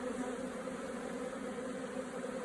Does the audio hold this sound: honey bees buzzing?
yes